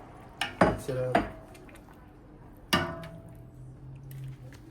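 Rice noodles in broth mixed in a pan for pansit bihon, a few clattering utensil scrapes and knocks against the pan in quick bursts early on, then one more clank and a quieter low simmer.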